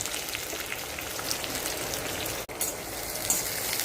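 Onion with cumin fries in ghee in a kadhai, a steady close hiss of sizzling with fine crackles, fairly soft and continuous with one brief dip.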